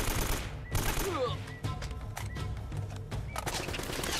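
Gunfire in Uncharted: Drake's Fortune: rapid, dense bursts of shots and impacts fill the scene from start to finish, loud and close, with brief interruptions and a few ricochet-like whines.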